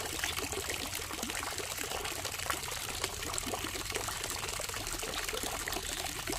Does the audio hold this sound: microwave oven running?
no